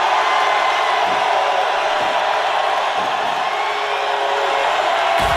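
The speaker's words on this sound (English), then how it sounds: "the crowd is going crazy" A cage fight crowd roars in a dense, steady wall of cheering and shouting that stays loud and unbroken throughout.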